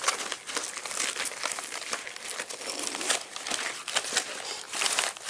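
Nylon S.O. Tech drop leg medical pouch being pulled open, with steady crinkling, rustling and crackling of fabric and Velcro running the whole time at close range, uneven bursts rising and falling.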